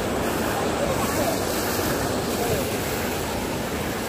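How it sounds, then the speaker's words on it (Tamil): Water from a waterfall at Puliyancholai near Thuraiyur, Trichy, flowing over stones, a steady broadband rushing wash that stays even and fairly loud throughout, with no talk. "இந்த ஃபால்ஸ்லேருந்து வர தண்ணி அழகாக கல்லில் பட்டு வருது."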